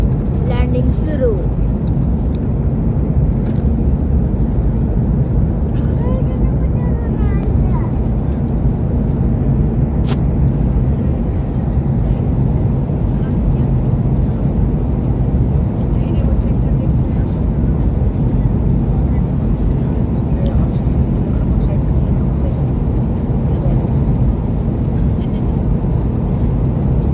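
A passenger airplane cabin during landing, with a steady loud low roar of engines and airflow throughout and brief faint clicks and bumps.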